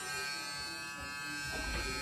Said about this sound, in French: Rends-moi cette brosse à dents électrique Chucky de 18 mois